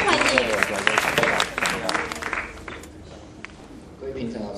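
An audience at a school invention competition applauds a first-year team presenting a potted-plant sprayer. The dense clapping is loudest in the first two seconds, then fades while a person speaks over it.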